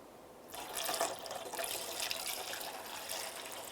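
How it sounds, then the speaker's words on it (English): Windshield washer fluid for a 2008–13 Mazda 3 pours in a steady stream after a quiet start, a continuous splashing gurgle close by that runs unbroken to the end. "now I'm just going to transfer my washer fluid over so I can pour it back in the reservoir"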